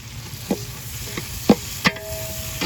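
Onions, green chilies, coriander and mint dropped into hot oil in a large pot for mass cooking, with a low sizzle under several sharp stirring clanks of a ladle against metal.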